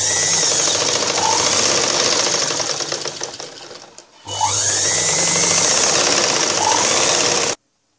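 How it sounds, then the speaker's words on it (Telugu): Sewing machine stitching a blouse sleeve runs in a steady, close, loud buzzing rattle that slows briefly, stops for a moment, then restarts at full speed before cutting off abruptly. "ఇప్పుడు మనం 2 times స్టిచ్చింగ్ చేసుకోవాలి."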